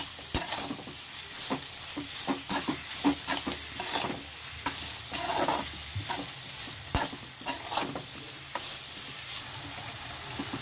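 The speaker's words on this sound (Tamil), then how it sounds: "இப்படி வெங்காயம் வதங்கும் போதே உப்பு போட்டால் வெங்காயம் சீக்கிரம் வதங்கிடும்" Onions sautéing with salt in a pan for tomato pulao, an even crackling sizzle with frequent rhythmic scrapes and knocks of a spoon as they are stirred, close and without talk.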